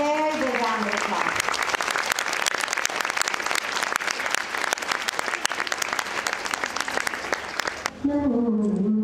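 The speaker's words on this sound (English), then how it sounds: "Let's give all of you and everyone here a very big round of applause." Audience applause at the International Yoga Festival 2015 in the mountains, a dense sustained clapping from a large crowd, loud and steady, with a voice speaking briefly before and after it.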